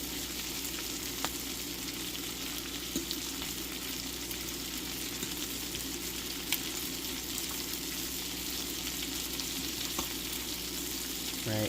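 Kirkland garlic butter shrimp fry in a pan with a steady, even sizzle that runs without a break, broken by only a few faint clicks of utensils.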